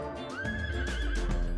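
A gaucho's ranch horse on Argentine pasture lets out one loud, close neigh, a rising and wavering whinny that lasts about a second.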